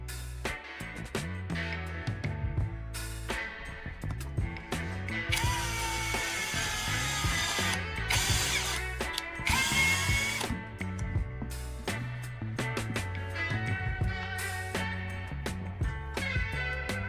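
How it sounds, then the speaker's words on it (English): A power drill drives screws down through two metal plates on a knife-sharpener base. Repeated close, ratcheting whirring bursts come with short gaps between them. "Screw down 2 metal plates"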